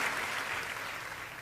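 An audience at a comic poetry gathering claps to welcome the poet Sampat Saral. The applause is steady and fairly faint, a broad wash of many hands lasting under two seconds.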